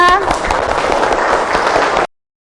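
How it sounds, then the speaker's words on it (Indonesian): A group bursts into steady, fairly loud applause with a voice briefly heard at the start, the clapping continuing evenly for about two seconds before cutting off abruptly into silence. "Tepuk tangan untuk semua"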